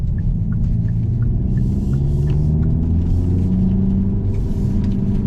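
A 2022 Hyundai Elantra N with dual-clutch transmission and loud exhaust, driving with a steady deep engine rumble and drone from inside the car, rising and falling slightly in pitch with no talking.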